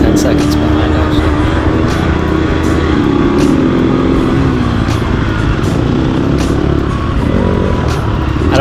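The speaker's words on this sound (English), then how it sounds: "I don't know if you heard my engine there," An off-road racing vehicle's engine roars loud and steady throughout, a constant close drone with wavering pitch and no break, captured on board during a hot lap.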